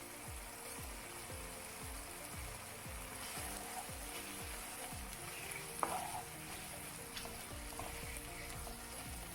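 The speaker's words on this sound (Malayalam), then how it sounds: "ഇനി ഇതിലേക്ക് വറുത്ത് വെച്ച ഉള്ളി ചേർത്ത് കൊടുക്കുന്നുണ്ട്." Fried onions stirred into a sizzling tomato masala for Kannur prawn dum biryani, a steady soft frying crackle with repeated scraping strokes of a spoon in the pan, close but quiet, no talk.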